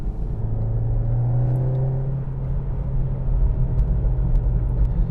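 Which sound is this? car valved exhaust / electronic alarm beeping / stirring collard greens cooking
car valved exhaust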